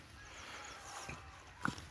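A faint whinny from a working draft horse rises over quiet outdoor ambience, with a brief soft thud just before it and a short vocal burst near the end.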